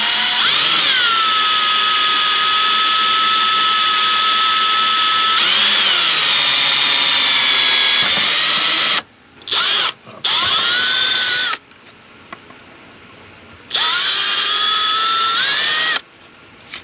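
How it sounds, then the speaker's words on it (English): Power drill boring a 3/8 inch hole to mount an LED for a water/methanol injection system, loud whining bursts that stop and restart several times with short quiet gaps between. "We'll drill a 3/8 hole for the LED and get that mounted up."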